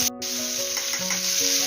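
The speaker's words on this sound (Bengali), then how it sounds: "পেঁয়াজটা লাল লাল করে আমি ভেজে নেব।" Sliced onions sizzle in hot oil with a dried red chilli, a steady frying hiss under occasional stirring clinks, close and fairly loud, with no talking.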